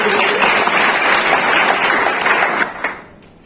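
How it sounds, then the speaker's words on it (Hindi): Students at a college seminar on the role of police burst into loud, dense applause for a young participant, sustained briefly before tapering off quickly into a few scattered claps and quiet. "जोरदार तालियां बच्चे के लिए।"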